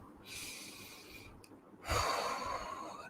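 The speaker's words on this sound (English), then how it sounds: "And then take a big breath" One person takes a big breath in during a relaxation exercise, a soft airy inhale followed by a louder, fuller rush of breath near the microphone, with no talking.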